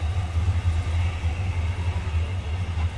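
Low, steady idle from a 1983 Chevrolet Monte Carlo SS, a deep exhaust rumble pulsing close and unbroken with no talk over it.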